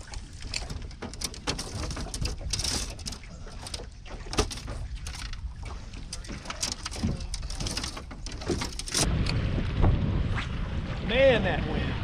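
Wind gusting across a fishing boat on Lake Lanier, a steady buffeting roar on the microphone with water splashes and a louder gust near the end, while people talk intermittently.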